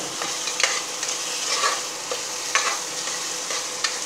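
Chicken kulambu masala with ginger-garlic paste frying on a low flame, a continuous soft sizzle broken by scraping stirs of a spoon against the pan at irregular intervals.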